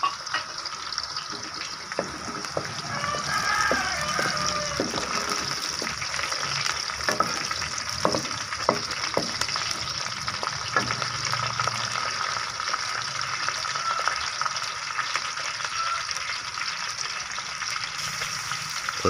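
Green chillies fry in hot oil for a beetroot and potato curry, a steady close sizzle with scraping stirs and small crackles running continuously, no voices.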